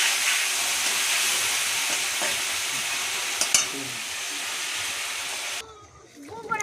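Water goes into a hot pan of Bengali fish curry with chili paste, setting off a loud, continuous sizzling hiss that holds steady for several seconds, then cuts off abruptly, leaving faint clatter.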